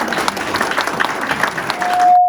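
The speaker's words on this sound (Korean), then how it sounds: "크게 박수로 환영해 주십시오." An audience bursts into applause to welcome a speaker at a special invited lecture, a dense wash of many hands clapping steadily for about two seconds before a brief steady tone and a sudden cutoff.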